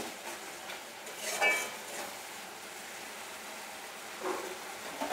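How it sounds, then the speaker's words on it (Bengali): Spice paste being stirred and fried in oil until the oil separates, for a katla fish kalia, with a soft steady sizzle and faint scraping of a spoon against the pan, fairly quiet throughout. "এবারে মশলা থেকে তেল ছাড়া অবধি আমি ভালো মতো কষাতে থাকবো।"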